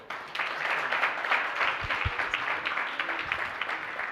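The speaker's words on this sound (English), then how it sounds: "let's give a big round of applause to Professor Maluleke" An audience gives a round of applause for Professor Maluleke at the close of a memoir event, dense steady clapping filling the room for several seconds, with a couple of low thumps partway through.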